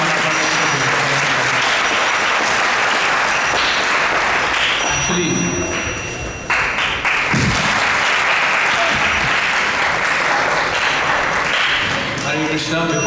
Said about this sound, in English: can we give a big round of applause to welcome